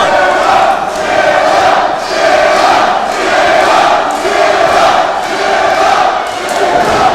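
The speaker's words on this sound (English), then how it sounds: "this crowd, sold out to capacity for the Walker, Texas Lawyer Arena, is trying to get behind the main one" A sold-out wrestling arena crowd chants and cheers in loud, rhythmic surges, the roar swelling and dipping in a steady pulse throughout.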